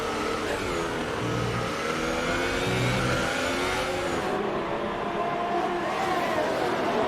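A Formula One race car engine heard from an onboard camera drones at a high steady pitch. It climbs and shifts through rising revs, with a dense rushing noise behind it.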